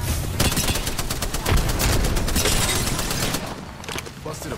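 Dense video game gunfire rattles in rapid, overlapping bursts of shots. It stays loud and continuous before thinning out near the end.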